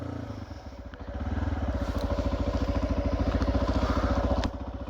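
A motorcycle engine chugs steadily with a pulsing beat as it rides over slippery rounded stones near Kharak village by Mangla Dam, revving up louder after a second and holding close and loud throughout.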